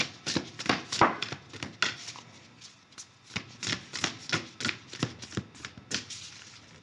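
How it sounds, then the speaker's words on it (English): A deck of tarot cards being shuffled by hand, giving a quick series of crisp riffling bursts and soft slaps in an uneven rhythm, close and clear with no talking. "too many were going to fall out, so I'm going to keep shuffling here."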